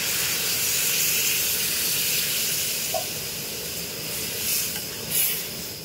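A steady, fairly soft hiss and sizzle comes from a spiced hilsa fish head frying with mustard as water is added to the pan, swelling briefly a couple of times near the end.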